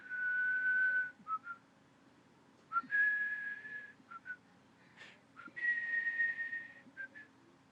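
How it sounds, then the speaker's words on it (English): A whistled theme from the film soundtrack of The Aviator's Wife, clean melodic phrases heard in three short bursts separated by quiet pauses, with no talking over it. "So the whistling theme emerges again."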